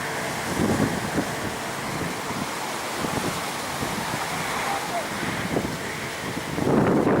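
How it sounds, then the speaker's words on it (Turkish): Strong wind buffets the microphone in a steady roar at Konyaaltı beach on a sunny, cold day, with surf rumbling underneath throughout and gusts swelling toward the end. "hava çok rüzgarlı"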